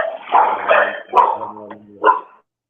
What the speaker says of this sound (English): the dogs are fired up